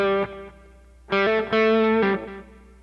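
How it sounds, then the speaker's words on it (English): Overdriven electric guitar with a delay effect, playing a short chord, then a louder sustained phrase whose repeats trail off in echoes, for a rock tone. "And here's adding a little bit of delay."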